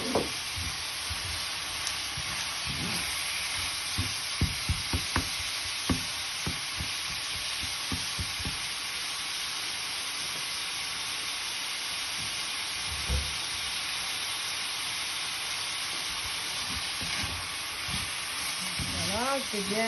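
Peppers, courgettes, aubergine and carrots sauté in a hot pan with a continuous close sizzle and hiss, broken by intermittent stirring knocks and scrapes, mostly early on, under occasional talk.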